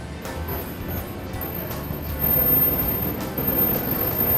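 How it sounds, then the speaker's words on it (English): A 4WD fitted with an ARB Airlocker rumbles along a bumpy dirt track at the Brisbane 4x4 Show, a steady low drone that swells louder partway through, with faint rhythmic knocks. "Guy's going to put it in four-wheel drive and see how much further along the track he can get."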